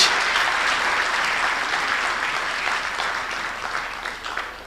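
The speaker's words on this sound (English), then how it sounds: "Please give him a round of applause as he comes to the stage." A general assembly audience applauds as a speaker walks onto the stage, a broad, even wash of clapping from a large hall crowd that fades slightly toward the end.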